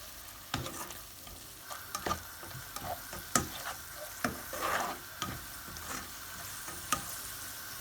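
A spoon stirs turmeric, red chili powder and garam masala in a hot pan, giving repeated close scraping strokes over a faint sizzle, with no talking.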